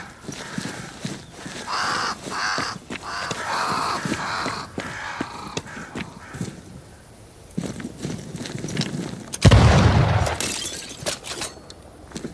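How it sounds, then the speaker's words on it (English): Crows caw repeatedly amid hoof clip-clops and ambient game sound in the video game Banishers: Ghosts of New Eden, the calls moderately loud and mixed with a sudden crashing burst later on. "Crows. They flock to that great tree up there."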